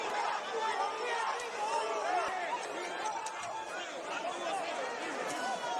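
Crowd at a Las Vegas boxing match between Manny Pacquiao and Ugas, a steady, distant murmur of many voices filling the arena with continuous babble at a moderate level.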